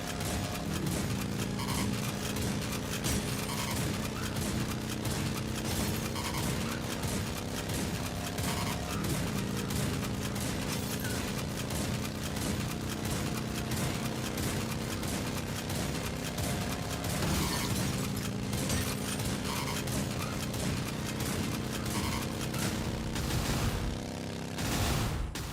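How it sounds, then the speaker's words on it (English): Constant gunfire from the Terminator 2D: No Fate video game, rapid dense shots running nonstop at an even, moderate level for the whole stretch with no voices. "Just got to keep shooting and every now and again shoot forward."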